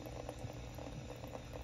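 Water runs hard through a newly installed Kohler Kaori kitchen faucet as the line is flushed, a dense, steady hiss with faint gurgling pulses, continuous and fairly near.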